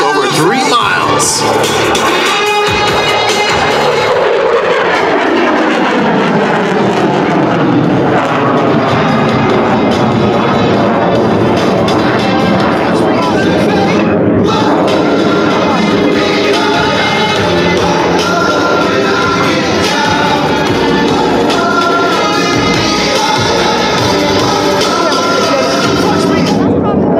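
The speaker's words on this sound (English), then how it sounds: "you'll see the Viper's exceptional power and rolling ability as it climbs from 300 feet to over 3 miles" An F-16 Viper fighter jet climbs with aileron rolls at an airshow, a loud, ragged roar that starts with a sharp blast and then sweeps down in pitch as it moves away. An announcer talks over it throughout.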